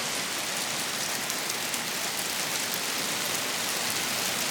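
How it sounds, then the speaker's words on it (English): Steady rain falls at Eden Nature Park, a dense, even hiss of drops on surfaces at constant loudness with no voices. "it's raining"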